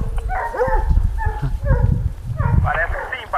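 Hunting dogs bark and yelp during a wild boar hunt, giving several sharp barks close by and clearly audible, with people talking over them outdoors.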